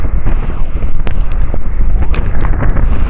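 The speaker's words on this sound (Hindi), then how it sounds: "ठंडी ठंडी हवा चल रही है।" Wind buffets the microphone on a moving motorcycle along an evening road. It makes a loud, constant rumbling roar with gusty surges throughout, and no other sound stands out.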